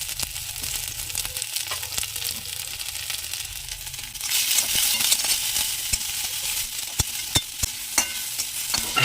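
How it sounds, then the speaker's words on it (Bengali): Onions fry lightly in a pan on low gas, a steady crackling sizzle that grows louder midway, punctuated by sharp stirring scrapes and clicks of a utensil. "হালকা পেঁয়াজটা ভেজে নেবে"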